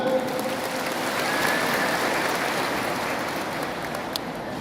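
Soft, steady applause from an audience at a formal gathering, a diffuse patter of many hands heard from a distance and sustained without break.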